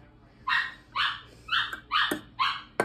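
A dog barks five times in a steady, spaced series, sharp and fairly close, at a squirrel seen through a window indoors, with no talk over it.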